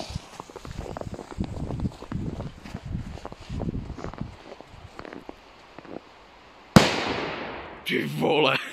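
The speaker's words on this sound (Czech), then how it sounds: "A jdeme teda na petardu X-Powder 5." An X-Powder 5 firecracker is set off in snow: a run of crunching footsteps through snow is followed by one sharp, loud, close blast with a short decaying rumble, then a second burst of noise.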